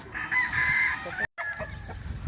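Fighting rooster of the pure Blueface gamecock breed on a farm in Santa Maria, crowing one long drawn-out call that breaks off briefly, then giving softer clucks, heard close and loud.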